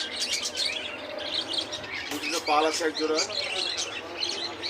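Caged pet birds, including lutino birds, chirp and tweet densely at a bird farm shop in Bangladesh while someone talks nearby.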